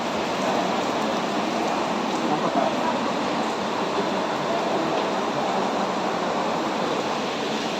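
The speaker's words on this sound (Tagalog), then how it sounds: "Yan, umulan na." Steady rain falls throughout, a dense, even hiss of drops on surfaces with no breaks, fairly loud and unchanging from start to finish.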